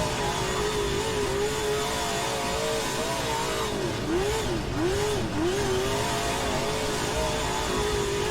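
A late model race car engine in rFactor 2 drones steadily and loudly, its pitch wavering and briefly dipping and rising midway, like a game engine at speed.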